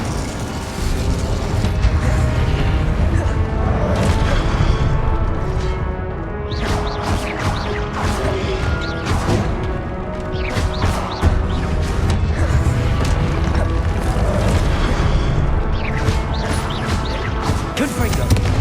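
Hogwarts Legacy video game spell combat with the Incendio fire spell, loud dense blasts, crashes and whooshing impacts repeating steadily alongside music and effects throughout.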